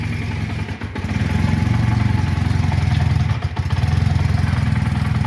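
A cold Honda CM400E Scrambler motorcycle engine idles on the choke with a loud, steady, close low rumble and slightly uneven pulsing, with two brief dips in the running.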